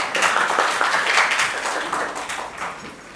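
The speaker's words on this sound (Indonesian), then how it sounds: "Tepuk tangan untuk kelompok 5." A classroom audience claps for a student group after its presentation, a close, steady burst of many hands that fades over about three seconds.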